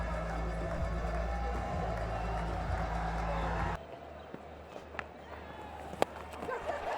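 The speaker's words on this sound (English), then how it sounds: "local boy raises his bat to a huge cheer from this Multan crowd" A large crowd roars and cheers at a cricket stadium in Multan during a Pakistan versus West Indies one-day international. The dense, loud, distant roar holds for a few seconds before cutting to quieter ambience with scattered knocks.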